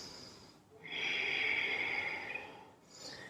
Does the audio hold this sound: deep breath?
yes